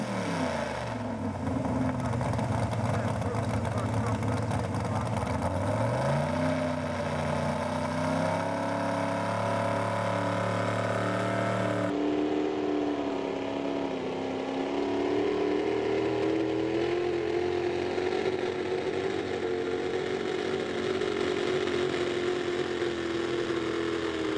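A 1954 Chevy pulling truck's engine roars loud and steady at a truck and tractor pull, revving with rising pitch before holding a sustained heavy drone throughout.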